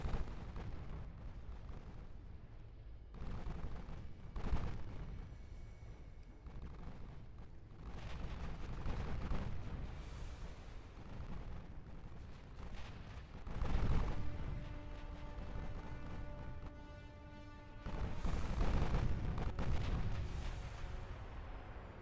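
Naval guns boom in Ultimate Admiral Dreadnoughts during a French battleship campaign, with heavy blasts arriving in several rolling waves over a constant low rumble, and no talking.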